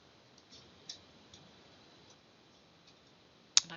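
A computer mouse clicks in a quiet room: a few soft, irregularly spaced clicks, then one sharper, louder click at the end, with no talking.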